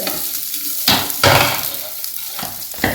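Okra and onions roasting with spices in a pan give a steady close sizzle, with a few louder bursts of stirring and scraping.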